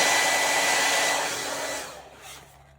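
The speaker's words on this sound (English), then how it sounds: "I'm gonna take the hair dryer again." A hair dryer, used to heat vinyl on a hat, blows loudly and steadily up close, then fades down as it is switched off near the end.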